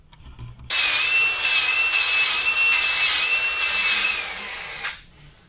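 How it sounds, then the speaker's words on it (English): A flap disc grinds metal on a utility trailer build, a loud, steady high-pitched whine with pulsing grinding noise running for about four seconds before cutting off sharply. "If you haven't used these flapper discs when you're doing metal work"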